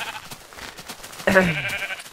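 A single Minecraft sheep bleat rises clearly partway through, a wavering nasal cry over a soft background hum.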